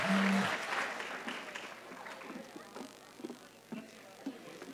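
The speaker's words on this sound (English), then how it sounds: "Can we get one more round of applause to the students of auto collision and repair?" Applause at a graduation ceremony for auto collision and repair students, starting louder, then thinning into scattered, fairly distant claps with faint voices in the hall.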